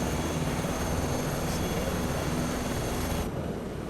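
Steady, loud helicopter rotor and turbine drone from an AS350 flying over the Andes in Microsoft Flight Simulator 2024, continuous throughout with no voices.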